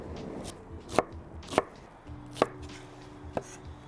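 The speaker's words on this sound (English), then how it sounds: "So cut your onions first" A knife chops onions on a board for a ribollita base, four or five sharp, well-spaced strikes ringing out close and clear against a quiet kitchen hum.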